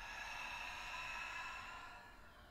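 A soft, faint breath exhaled during a yoga flow, a single long airy sigh that slowly tapers off near the end with no talking.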